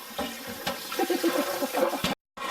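Water runs and splashes in a kitchen sink during washing, a short close gurgling burst with a brief break near the end.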